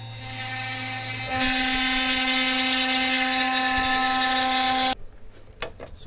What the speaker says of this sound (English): the final plate with all the little intricacies carved out by this CNC router